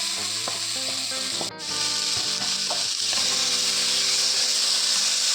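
Tomatoes drop into a pan of frying beef seasoned with pepper powder, turmeric and garam masala, setting off a loud, steady sizzle with scraping stir strokes and a brief dip partway through.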